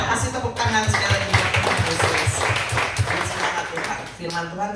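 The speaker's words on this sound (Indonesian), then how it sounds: "Ya, kasih tepuk tangan sekali lagi." Congregation clapping and applauding during a church service, sustained rhythmic hand claps filling the room for several seconds before fading, with a voice speaking over them.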